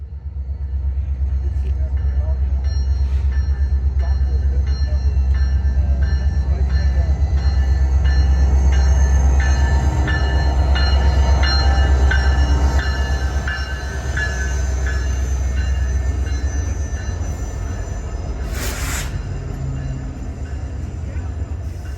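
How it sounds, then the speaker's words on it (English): The Denali Star passenger train in Alaska rumbles in with a loud, low continuous roar, clanking wheels and a brief squeal of metal near the end. "Finally, the Denali Star popped around the corner."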